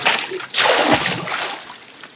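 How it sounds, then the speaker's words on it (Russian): Water splashing and sloshing in short bursts as it is bailed out with a three-litre pot, close by with a faint voice in the background. "2 тонны воды надо вылить в кастрюлей"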